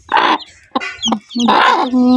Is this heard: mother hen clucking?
yes